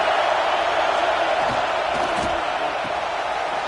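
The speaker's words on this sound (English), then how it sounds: "This Auburn crowd trying to conjure up a little magic here on 3rd down." A packed Auburn football stadium crowd roaring on third down, a dense, loud, steady wall of cheering and shouting with a few scattered louder whoops.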